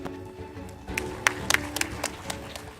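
Audience applause for panelists on stage at a sustainability forum in Indonesia, a short burst of scattered claps rising over a murmuring room, moderately loud and brief.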